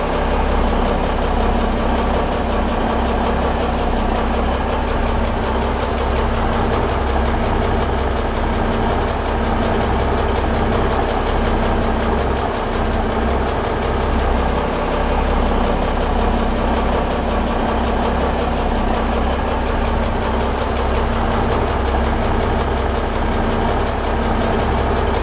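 A boat engine idles steadily and loudly throughout, a constant low, vibrating rumble with no talk over it.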